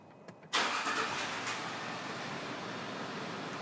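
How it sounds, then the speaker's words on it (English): A car engine cranks briefly and catches, then settles into a steady idle, close and fairly loud, with a faint click just before and no voices. "start the engine,"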